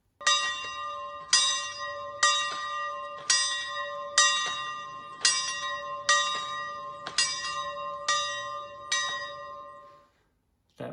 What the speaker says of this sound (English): And of course, that iconic bell sound.